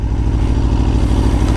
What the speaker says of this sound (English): Now I'm gonna let go of the clutch as I ease into the throttle. And now we're going. We're going in first gear.